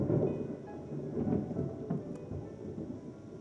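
Thunder in a thunderstorm recorded at a window: a deep, rolling rumble that swells and fades over steady rain, with no talking.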